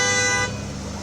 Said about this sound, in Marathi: कनॉट प्लेस जवळील हनुमान रोडवरही वाहतूक संथ गतीने सुरू होती